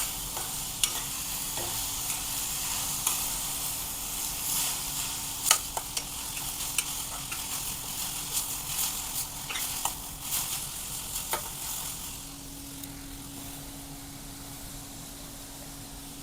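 Salt is stirred into shredded cabbage frying in a pan, a steady sizzle with scattered scraping clicks of a spoon against the pan, close and continuous, easing slightly toward the end.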